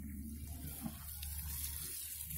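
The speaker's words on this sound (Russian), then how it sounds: "Вода теперь, которая выкачивается из бассейна, поливает нам малину." Pool water running out through a filled garden hose as the above-ground frame pool is drained onto raspberry plants outdoors, a steady close gush with no talking.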